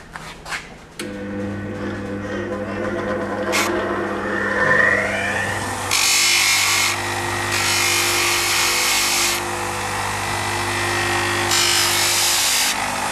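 An HS33 bicycle brake pad is sanded in bursts of harsh rasping scrapes over a steady mechanical hum, with several longer strokes in a row and no talking.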